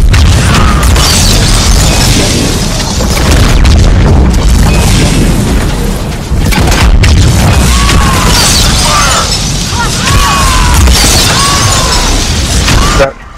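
Cryo and biotic explosions boom and burst in a sci-fi shooter battle, a steady loud barrage of blasts and crashes running the whole way, with faint voices mixed in.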